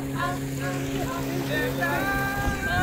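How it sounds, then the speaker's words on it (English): A boat engine drones steadily on a river in Borneo, a constant low hum running throughout while people talk over it. "Gigi, do you enjoy the boat ride?"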